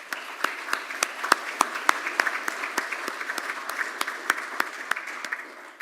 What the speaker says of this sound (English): I guess they're clapping for you